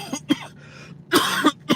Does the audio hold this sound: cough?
yes